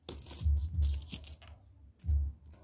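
Coins clink and drop in several quick bursts, close and distinct, with short pauses of quieter handling between the metallic jingles.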